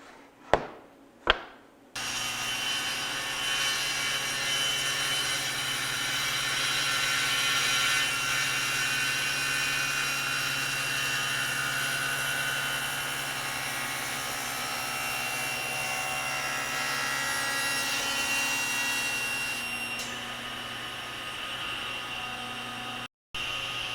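A power tool cuts a wooden chair part held in a spinning jig, a loud steady whine running for about twenty seconds after a couple of sharp knocks, then cutting off abruptly near the end.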